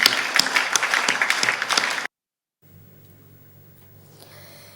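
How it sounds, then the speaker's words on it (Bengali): Applause for Bangladeshi scouts at a news event, a dense burst of many hands clapping for about two seconds that cuts off abruptly into near silence. "সবাই মিলে আমরা একটা হাততালি দিই তাদের জন্য"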